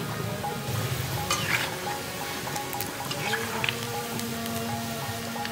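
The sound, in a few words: deep-frying bhoga in oil until golden brown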